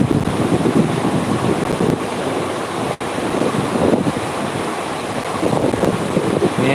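Ocean surf at Calang beach in Aceh Jaya, a continuous broad wash of waves mixed with gusting wind buffeting the microphone, with no voices.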